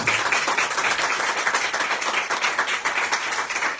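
Audience applause following a speech at a French-language talk, steady dense clapping from a large crowd that fills the whole stretch without any voice on top.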